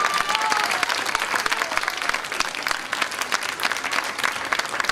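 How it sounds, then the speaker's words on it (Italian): A theatre audience breaks into dense, continuous applause, loud and steady throughout with no voices standing out. "Un applauso!"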